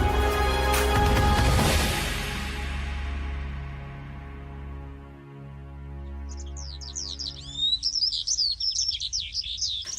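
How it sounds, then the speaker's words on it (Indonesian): Birds chirping as a bright-morning effect for a school stage drama: rapid high twittering calls enter and build over the final seconds, following a fading musical chord. "Suara burung berkicau meriuhkan suasana pagi yang cerah."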